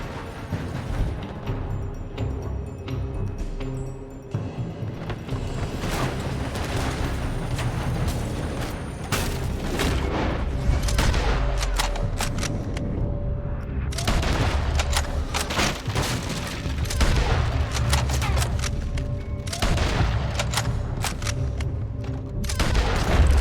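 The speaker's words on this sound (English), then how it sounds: "They're shooting from that building." Sustained gunfire in the video game Red Dead Redemption 2, with rapid overlapping shots and heavy booms from a building, loud and continuous over a dense backdrop of rumbling action with no talking.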